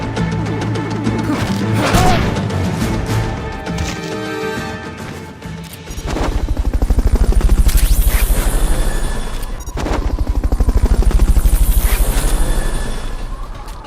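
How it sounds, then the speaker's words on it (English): A helicopter in Metal Gear Solid Peace Walker arrives for a Fulton recovery with loud crashing game effects, then a heavy, pulsing rotor thrum that swells and fades in two long waves. "Fulton recovery helicopter is complete."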